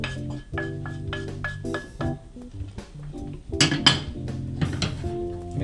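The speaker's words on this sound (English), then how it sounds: "Mix it together and fluff it at the same time." Couscous being fluffed and mixed with simmered fruit and vegetables in a pot, heard as a run of close metallic clinks and scrapes of a utensil against the pot, with a busier cluster of clatter midway.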